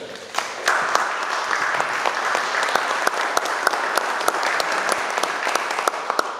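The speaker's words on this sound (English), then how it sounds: "I think he deserves a round of applause for that" A crowd applauds the governor at an address on Amendment 2 in West Virginia Independence Hall, steady dense clapping with sharper individual claps standing out, loud and sustained throughout.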